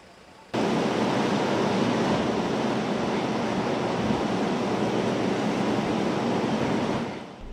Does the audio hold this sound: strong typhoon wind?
yes